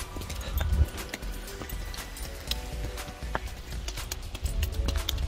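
Horse hooves clip-clop steadily on a narrow, snowy single-track mountain trail from Dowarian to Ratti Gali Lake in Neelum Valley, Azad Kashmir, a continuous close walking rhythm over rustling outdoor noise.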